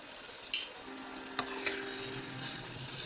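A tablespoon of water poured into fish pieces in chili masala for a Kerala fish curry, a moderate steady sizzle with a few sharp clicks and spoon taps on the pan.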